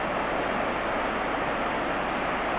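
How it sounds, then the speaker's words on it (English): Very small ocean waves break close by as a loud, unbroken wash of surf noise that stays even from start to end, with no voices. "Very small waves."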